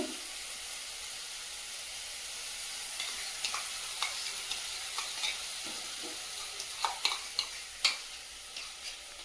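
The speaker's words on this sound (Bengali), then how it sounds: "টক দইটা দিয়ে ভালো করে কষিয়ে নেব সব" Tomato and sour curd being stir-fried in oil for a fish kalia, a steady sizzle with scattered scraping stirs that grow sharper and more frequent toward the end, close and alone with no voices.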